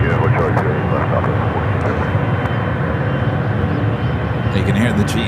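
A Japan Airlines Boeing 777 with GE90 engines taking off at San Francisco airport: a loud, steady, broadband jet roar filling the whole clip with a deep rumble, heard from nearby outdoors.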